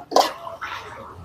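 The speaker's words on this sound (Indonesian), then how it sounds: "Nah untuk cara pemasangannya itu pengisian airnya itu di pipa keluarannya seperti ini kak" Water poured into the outlet pipe of a modified Z500 water pump, a close gurgling splash that surges at the start and sloshes again more softly after a short pause.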